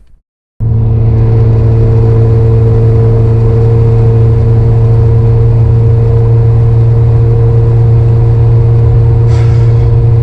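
A car engine starts abruptly and settles into a loud, steady droning exhaust hum that continues without a break.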